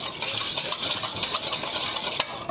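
Dijon mustard whisked into a salad dressing, a brisk continuous scraping and swishing close by, steady and fairly loud with a few sharper clicks, with no talk.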